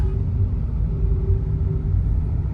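Steady low road-traffic rumble in Chakan, continuous engine and tyre drone at moderate distance with no voices.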